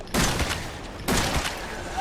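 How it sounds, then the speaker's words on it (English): Two loud gunshots from the survival horror game Resident Evil 7, the first near the start and the second about a second later, each a sharp blast with a ringing tail. "that's 2 shots"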